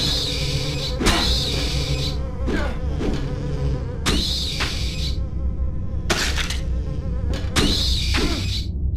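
Buzzing insect enemies in the video game Silent Hill 4: The Room, on a forest path. Swarming, wavering drones are joined by repeated sharp, bright bursts at intervals over a continuous low game ambience.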